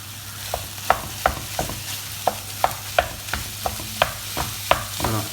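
Minced lamb leg frying with vegetables in a pan is stirred and broken up with a wooden spoon, about a dozen sharp taps in irregular rhythm over a soft sizzle and low hum.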